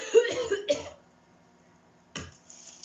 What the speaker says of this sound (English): it takes ages to cough it up.